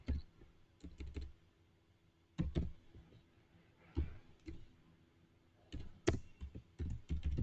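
Typing on a computer keyboard: clusters of close, light key clicks in short bursts separated by brief pauses, quiet and alone.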